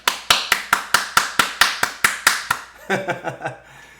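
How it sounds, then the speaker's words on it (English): Sharp, evenly spaced hand claps ring out alone, about a dozen in a steady rhythm, close and loud, then give way to a brief burst of talk. "So yeah, clap it up."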